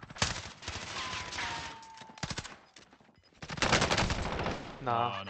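Rapid automatic gunfire in Call of Duty Warzone crackles in dense, loud bursts with short gaps, while players talk and exclaim over the shooting.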